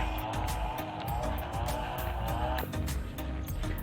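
Motorcycles run near a beach, their engines giving a continuous buzzing drone that swells as they pass, fairly faint and distant with some background noise.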